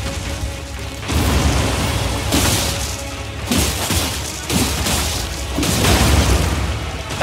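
Shooting-star attack explosions in the Elden Ring video game arrive as loud, repeated booming bursts in several waves, each a dense rumbling blast that swells and fades over a continuous roar.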